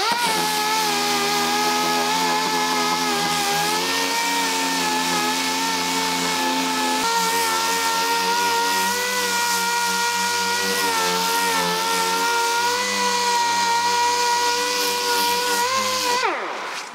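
Power sander working a car body spot repair with 120-grit paper, a steady loud whine with a fluctuating pitch running continuously before winding down at the end.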